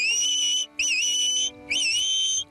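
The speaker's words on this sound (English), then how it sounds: "And then I use the whistle as well." Three shrill, warbling whistle blasts with short gaps between them, sharp and fairly close, signalling a working sheepdog outdoors in Northumberland.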